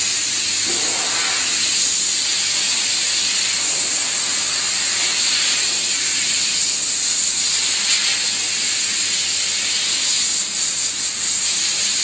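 Continuous high-pressure air jet blowing through fabric to dry it after stain removal with a spotting gun, a loud, steady hiss sustained for the whole twelve seconds.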